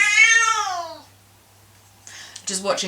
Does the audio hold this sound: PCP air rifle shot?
no